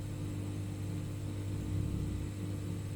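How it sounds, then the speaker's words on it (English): A dead MOSFET on an Acer laptop's charging circuit gives a steady low electrical buzz with a constant hum, close and unchanging, with no talking. "It's buzzing, it's dead."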